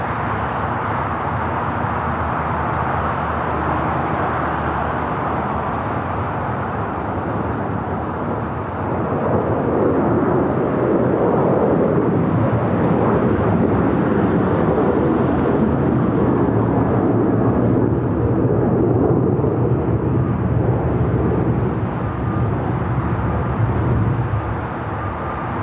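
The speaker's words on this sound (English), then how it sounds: "Singapore Flight 12 coming in from Tokyo Narita, 777-300 ER" A Singapore Airlines Boeing 777-300ER inbound from Tokyo Narita lands on runway 24 right at Los Angeles airport, a broad, steady jet roar that swells midway and holds loud to the end, with no talking.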